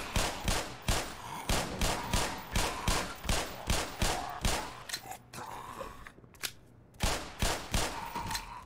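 Rapid gunfire from a pistol in the game Black Mesa, with loud sharp shots in quick succession, a brief pause partway through, then another burst; no talking.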